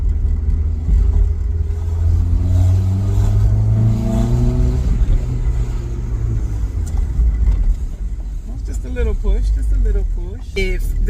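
A 1994 Toyota MR2 engine revs and accelerates, a loud low rumble with rising harmonic sweeps that climb steadily, then ease off as a person talks over the end.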